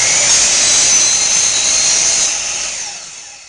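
A power saw miters quarter round trim for a fireplace mantel, whining loudly and steadily at close range, then spinning down and fading near the end.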